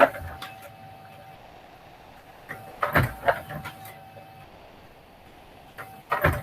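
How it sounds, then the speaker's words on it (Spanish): A home printer runs through a print job, with bursts of mechanical whirring and clunking of paper feeding at the start, middle and end, fairly close, over a quiet room hiss. "justo estoy imprimiendo algo"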